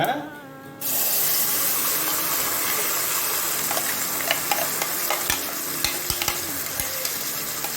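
A ground paste for a sesame potato and egg curry is stirred into hot oil. After a short different sound at the start, a busy sizzle builds with sharp, irregular spoon scrapes and clatters close by.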